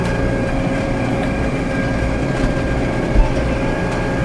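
A farm tractor engine running, a loud steady droning rumble with a constant mechanical hum and a brief knock near the end, heard from inside the cab with no talking.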